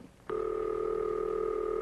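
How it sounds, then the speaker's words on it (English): A ringing signal on a 1954 dial-telephone line, a burring tone that starts after a brief quiet moment and then holds steady and clear to the end, with no voices. "That's the ringing signal, an interrupted burring sound."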